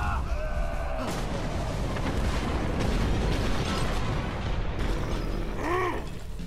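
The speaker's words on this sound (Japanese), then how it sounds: "旗で大砲をバンバン撃っている。" Cannon fire rumbles through a World War I scene in the game Valiant Hearts: The Great War, with dense, continuous booming and battlefield clatter. No voices are heard.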